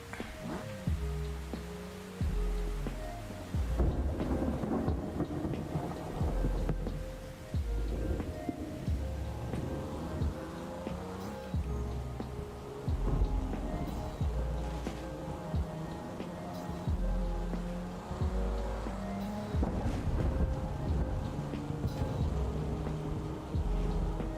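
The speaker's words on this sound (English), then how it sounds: "We go heavy thunderstorm." Steady rain from a heavy thunderstorm hisses throughout with occasional low rumbles, layered over soft sustained tonal music.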